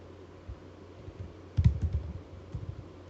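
Typing on a computer keyboard at close range, with soft scattered key taps early on and a quicker burst of clicks in the middle and near the end.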